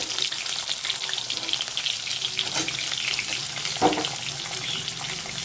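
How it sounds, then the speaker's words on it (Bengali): Potatoes hit hot oil flavoured with fried black cumin for a spinach curry, giving a steady close sizzle throughout with a single brief clatter near the end and no talking. "আলুগুলো প্রথমে তেলে দিয়ে ভেজে নেব"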